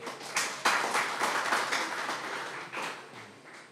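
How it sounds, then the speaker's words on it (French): An audience applauding D'Angelo, with a dense burst of clapping that swells, holds and then tapers off over a few seconds. "Et je vous demande d'applaudir D'Angelo."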